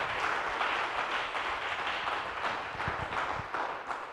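A church congregation at a Bible study on the Gospel of Luke breaks into applause for God, a fairly soft, even crowd clapping that sustains for several seconds with a few louder individual claps toward the end.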